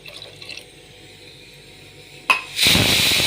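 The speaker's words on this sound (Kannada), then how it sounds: "ನಾನು ಸ್ವಲ್ಪ ನೀರು ಹಾಕ್ತೀನಿ" Water is poured into a pot of lentil and greens dal while cooking, a steady splashing fill starting suddenly near the end after a quiet stretch.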